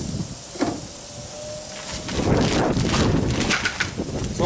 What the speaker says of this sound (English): That sizzle tells me that the grill is nice and hot.